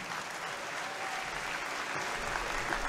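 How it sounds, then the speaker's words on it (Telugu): An audience at a talk applauds to welcome a motivational speaker to the stage, a steady wash of many hands clapping that holds for the whole stretch at moderate distance. "మీ అందరి చప్పట్ల మధ్యలో రామ్ గారికి ఆహ్వానిస్తున్నాను."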